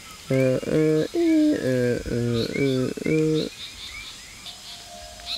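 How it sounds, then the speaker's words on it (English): A loud jungle bird call repeats in six evenly spaced, buzzy, nasal notes, then gives way to faint chirps in the background. "Birds around here are tone deaf."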